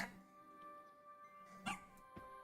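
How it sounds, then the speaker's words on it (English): Dogs barking indoors during a game stream, a couple of sharp short barks rising over a steady background hum, mid-distance and fairly faint. "I'm sorry my dogs are barking at the end of this"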